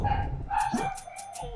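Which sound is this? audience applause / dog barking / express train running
dog barking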